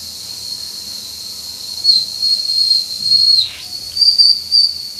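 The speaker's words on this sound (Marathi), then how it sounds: "शिट्टी झालेली आहे।" Pressure cooker steaming idlis lets out a loud, shrill steam whistle that wavers and briefly dips before resuming, over a soft hiss.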